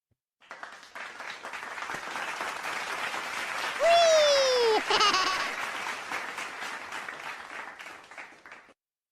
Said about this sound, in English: And hashtag clap is people clapping.